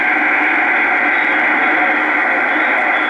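Loud, steady hiss and static pours from the small internal speaker of a Pace 1000-B 23-channel SSB CB base radio, unbroken and with no voices for about three seconds.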